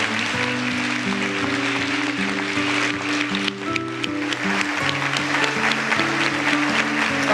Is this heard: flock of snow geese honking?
no